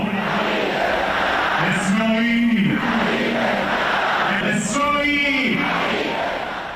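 A large crowd chants slogans in rhythmic bursts at a funeral procession in Iran. Massed voices rise and fall twice over a constant roar of crowd noise, loud and fairly close.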